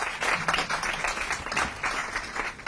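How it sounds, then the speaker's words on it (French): Audience applauding women entrepreneurs of a young entrepreneurs' club at a formal event, steady dense clapping that holds at an even level throughout without breaks. "Je demande à ce qu'on les applaudisse."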